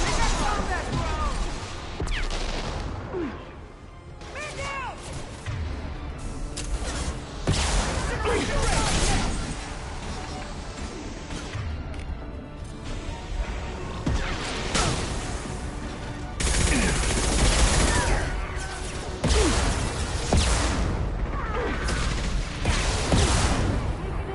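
Dense bursts of weapon fire crackle through a Mass Effect 2 firefight, rapid volleys and heavy impacts overlapping across the whole stretch, with in-game voices breaking in between shots.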